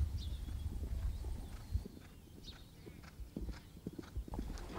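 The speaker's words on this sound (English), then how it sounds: "here's a nice horse called Concielo" Horse hooves clip-clop at a steady walking pace on a hard surface, moderately close, with faint background noise and no talking.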